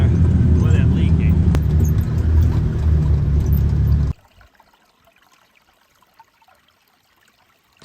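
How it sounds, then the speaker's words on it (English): Cold spring water rushes in through household pipes, a loud steady gush with a person talking over it, then it cuts off abruptly into near silence. "So now I can hear the water flowing in."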